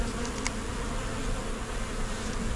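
Honey bees swarm around an open hive whose brood box is packed full, producing a dense, steady buzzing drone close by with a few brief higher whines of individual bees passing near.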